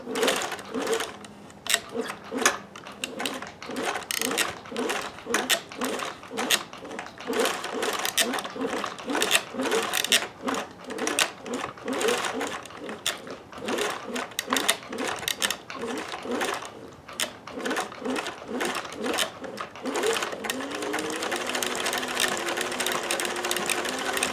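A sewing machine stitches a buttonhole in jeans, a rapid rattling run of stitches close up that changes texture near the end, with someone talking over it.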